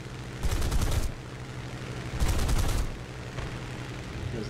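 Spitfire F Mk XVI machine guns firing in War Thunder, two loud rapid bursts about a second long each, followed by a shorter fainter burst, over a steady engine drone.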